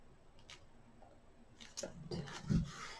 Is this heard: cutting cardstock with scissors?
yes